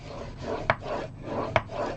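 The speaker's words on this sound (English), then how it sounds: "I'm going to score that with my scoring tool" A scoring tool drawn across cardstock gives soft, close scraping strokes, with two sharp little clicks about a second apart.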